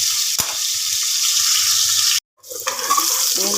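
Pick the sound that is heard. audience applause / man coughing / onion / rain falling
onion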